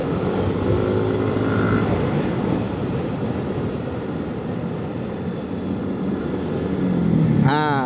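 A Yamaha NMAX Turbo scooter rides through city traffic near an underpass, its engine a steady close drone over road and wind noise that swells slightly toward the end, with a brief whine or horn at the close.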